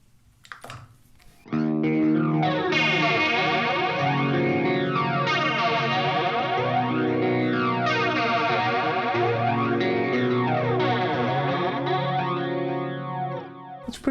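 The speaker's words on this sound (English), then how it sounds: "It's very aggressive flanging" An electric guitar chord rings out through an aggressive flanger effect, with loud, sustained tone and deep, sweeping jet-like whooshes rising and falling repeatedly for several seconds before fading.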